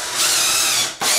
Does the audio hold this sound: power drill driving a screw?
yes